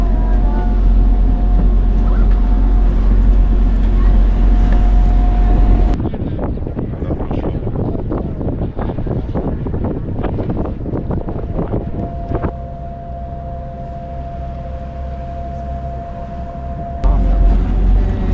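Wind and a steady engine drone on a short daytime ferry crossing to Valletta, Malta, heard from the open top deck, with the roar dipping and shifting partway through.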